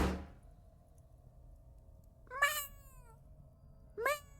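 Two short video-game cat meows sound about a second and a half apart against a quiet background, each rising then falling, clear and close.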